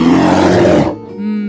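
A short, loud cartoonish bear roar growls for under a second, then cuts to a quieter sustained tone.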